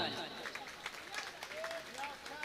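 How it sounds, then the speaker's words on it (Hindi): An audience at a mushaira poetry gathering in Siwan, Bihar claps in a dense, steady patter, with faint voices and a few scattered calls mixed in. "बजाओ ताली।"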